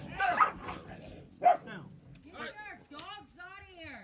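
Dogs bark in short, scattered bursts amid a shouting voice, then a string of rising, whiny yelps and yips close by in a rural setting.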